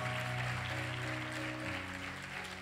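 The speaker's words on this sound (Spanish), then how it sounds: "Dale un fuerte aplauso al Señor." A church congregation applauds during a Spanish-language worship service, a steady wash of clapping mixed with sustained musical tones beneath it, fairly faint and continuous throughout.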